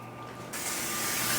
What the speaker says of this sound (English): let's go ahead and spray down our 13x9